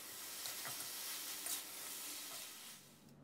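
Pork belly is stir-fried with chili flakes, spring onion and coriander in a hot pan, giving a steady sizzle and frying hiss with faint stirring scrapes, heard close and without talk.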